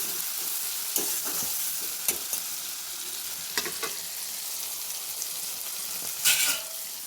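Hilsa fish with chili powder and spices sizzles strongly in a pan while being mixed, with a constant loud hiss and occasional soft scrapes and a brief burst near the end; no speech.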